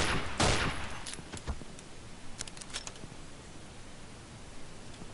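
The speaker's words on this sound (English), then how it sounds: "I'm gonna keep using my pistol because no." Pistol shots in the video game Afraid of Monsters, a few sharp cracks early on followed by fainter, scattered clicks and impacts, quiet overall against a low background hiss.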